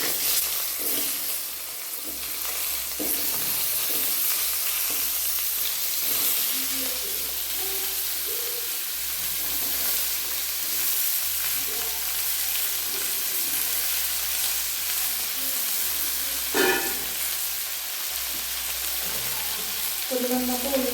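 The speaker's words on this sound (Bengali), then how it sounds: "এবার আমি আলু, গাজর, বিনসটাকে একসঙ্গে আমি ভেজে নেব।" Potato, carrot and beans fry together in a hot wok, a loud, continuous sizzle with occasional stirring scrapes and a few faint knocks running throughout.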